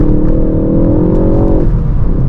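A 2022 Ford Focus ST facelift accelerating hard on a track, heard from inside as a loud, dense engine drone with a rising whine that climbs, then drops off near the end; a brief voice passes in the background.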